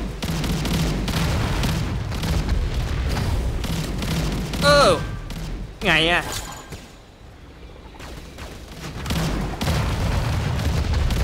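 Booming bomb blasts in the mobile shooter Catalyst Black go off amid gunfire and game effects, with a couple of sharp louder bursts standing out, while a player talks excitedly over the action.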